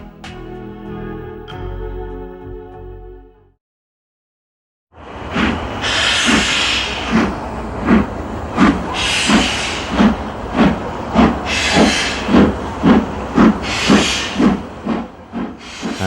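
Steam locomotive No. 46203 Princess Margaret Rose pulls a train away uphill on the North Wales coast. A low rumble and a short pause come first, then loud, rhythmic exhaust chuffs with hissing steam, steadily repeating and close.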